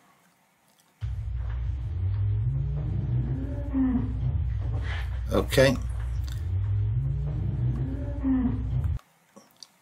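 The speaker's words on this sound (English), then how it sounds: "That is a cow, and you can see the frequency there." A cow moos in a long, low, drawn-out call lasting several seconds, fairly loud and clear, followed by a second similar moo, with a brief spoken word at the start.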